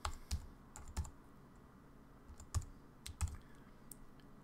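Sparse keystrokes on a computer keyboard while a spreadsheet formula is entered: close, crisp clicks arriving in small irregular clusters separated by short pauses, with nothing else heard beyond a low, quiet background.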